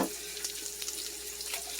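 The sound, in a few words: beef added to a pan for beef and mushroom risotto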